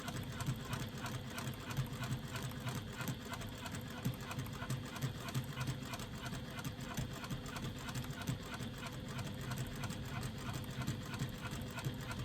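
Sewing machine stitching a strap seam with a quarter-inch seam allowance, a continuous, even mechanical chatter at a steady stitch speed, close and unbroken throughout.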